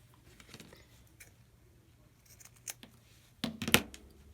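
Scissors trim fabric for a zipper pouch: quiet handling and rustling, then a few crisp, close snips near the end.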